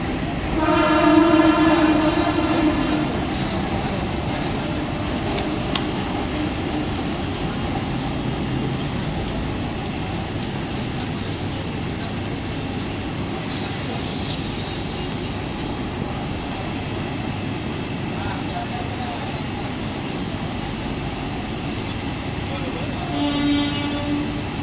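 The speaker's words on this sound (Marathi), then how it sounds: "8:21 की कर्जत जाने वाली हिमी लोकल थोड़े ही समय में प्लेटफॉर्म क्रमांक 1 पर आ" A Mumbai local train at night rolls along a railway platform with a loud continuous rumble and clatter of wagons, a brief horn near the start, and a station announcement voice heard over it.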